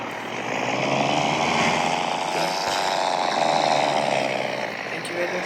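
A truck engine in the World Truck video game revs steadily and fairly loud, a sustained droning roar that holds for several seconds before easing slightly toward the end.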